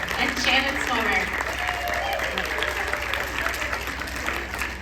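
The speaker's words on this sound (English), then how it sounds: "If we could get a round of applause for Venita Hill, Shennelle Feather, Venita Wolfe, and Shannon Smoller" Audience applause for a panel of women government leaders, a steady patter of clapping from a crowd in a hall that carries on throughout without a break.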